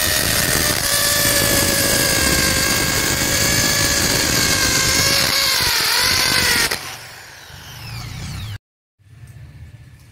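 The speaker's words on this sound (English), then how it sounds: "Let me do some drilling on the concrete with the concrete bit." An iBELL impact drill with a concrete bit bores into concrete with a loud, steady whine for several seconds, then drops to a lower spin-down, cuts out briefly and restarts more faintly.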